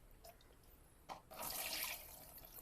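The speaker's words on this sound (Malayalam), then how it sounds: "ഇനി ഇതിൻ്റെ മേലേക്ക് വെള്ളം ഇത്തിരിച്ച് ഒഴിച്ചു കൊടുക്കാം കേട്ടോ." Water is poured gently onto a plastic cover laid over the soil in a fish tank, a quiet trickle and splash that swells briefly and then settles into a soft, continuous run.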